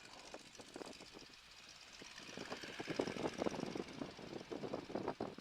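A small airplane's engine is throttled up before takeoff at the end of the run-up, rising from a faint idle into a louder, pulsing propeller drone.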